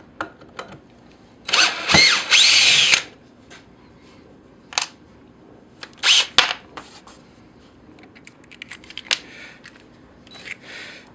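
A handheld power drill runs in short bursts, two louder whirring runs near the start and middle followed by brief taps and clicks, close and alone without talk.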